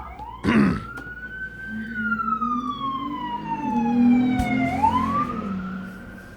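A police siren outside during a high-speed chase wails, sweeping up and down in pitch, fairly close and steady, with a brief sharp knock near the start.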